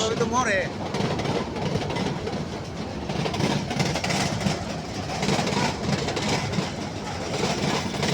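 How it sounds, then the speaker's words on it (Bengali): A train rolling across the Kaddar bridge, a continuous loud rumble with rhythmic clatter of wagons throughout, close by, with crowd voices and talk mixed under it. "দেন ট্রেন যেতেছে উপরে"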